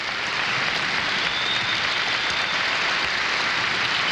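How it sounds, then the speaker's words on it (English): A crowd at the 1978 U.S. Figure Skating Championships in Portland, Oregon, applauds after a free dance performance, giving a dense, steady wash of clapping that stays loud and even throughout. "And they deserve the applause."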